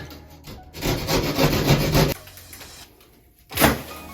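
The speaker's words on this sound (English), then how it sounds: "I'm gonna cut it back about 1/4 inch around the hole I made" A saw cuts through a ceiling or wall panel to widen a hole by about a quarter inch for a Mr. Steam ChromaSteam 3-inch LED recessed steam light. The close rasping strokes run for over a second, stop, and one short cut follows.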